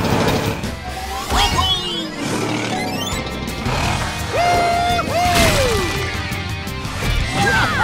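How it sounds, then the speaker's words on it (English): A cartoon wrecking ball crane slams into giant tacos, producing repeated loud crashing thwacks with whooshing swings and sliding tones between hits, and no talking. "It's taco smashing time!"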